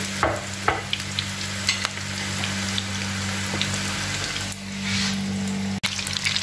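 Onion, spinach and chilli pakoras deep-frying in oil over medium heat give a close, steady bubbling sizzle, broken by a few clicks and scrapes and a brief sharp knock near the end.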